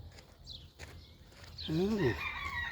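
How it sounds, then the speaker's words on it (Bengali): Local village rooster crowing, one drawn-out crow rising and falling near the end, fairly close and clear, after a quiet stretch with faint background sounds and light talk. "এই দেশি মুরগের ডাক"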